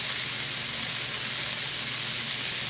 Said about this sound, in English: underneath all these vegetables, I still have the beef frying and getting brown